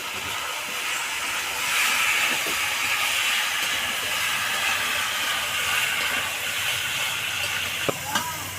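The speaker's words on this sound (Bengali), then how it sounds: "সব মশলা দেওয়া হয়ে গেছে এবার আমি ভালো করে কষিয়ে নেব" Spices and chopped tomato sautéing for a mutton curry give a broad, steady hiss of sizzling that carries on without a break, with a couple of sharp utensil clicks near the end.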